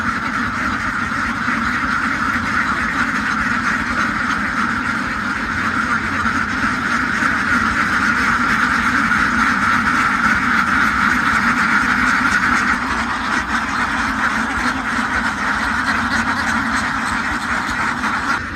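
A crowd of ducks on a duck farm quacking continuously and loudly, a dense overlapping chorus that never pauses, with no talking.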